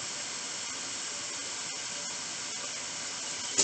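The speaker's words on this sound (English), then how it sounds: "I just have water running and get the potatoes all covered." Tap water runs steadily into a metal pot of potatoes, a continuous close hissing rush with no talk.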